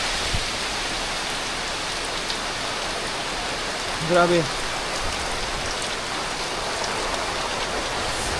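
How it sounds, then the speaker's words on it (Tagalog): Heavy rain driven by strong wind in the mountains, a dense, steady roar of downpour throughout, with a brief exclamation from a voice partway through. "ang lakas na ng hangin na may kasamang ulan"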